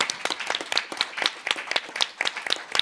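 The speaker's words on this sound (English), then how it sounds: "I would like to actually have you give yourselves a round of applause for being a marvelous audience." Audience at a political candidate forum on energy and the environment applauding itself, with loud, distinct individual claps in a brisk irregular rhythm over a fuller crowd patter.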